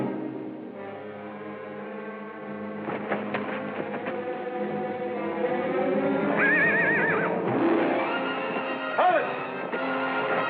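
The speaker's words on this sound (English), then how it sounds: "There are 2 horses at the rack outside." Two horses neigh and whinny at a hitching rack outside in an old Western setting, with shrill rising calls cutting through music and ambient noise, near and fairly loud.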